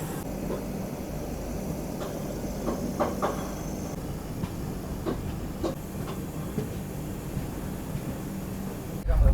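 The Arunachal AC Superfast Express pulls out of Naharlagun station, bound for Anand Vihar. Its wheels give a rhythmic clickety-clack with a low rumble and occasional sharper clanks, steady and fairly near, ending in a louder burst of noise.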